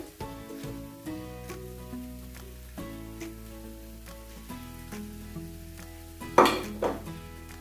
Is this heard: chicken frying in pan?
yes